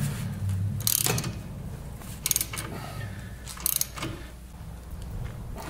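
An OTC puller pressing a caster/camber bushing assembly on an F150, heard as faint repeated mechanical clicks and ratcheting with three sharper metallic snaps over a low steady background.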